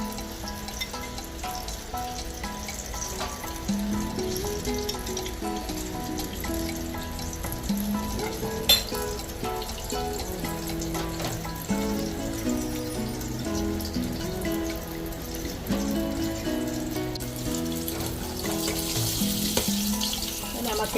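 Egg-coated eggplant omelette, tortang talong, frying in oil: a continuous soft sizzle and crackle with scattered pops, fairly quiet and steady throughout, with no one speaking.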